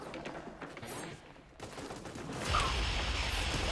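Video game gunfire from a Tommy gun and a Desert Eagle, with rapid overlapping shots that swell into a dense, loud, continuous burst during the second half.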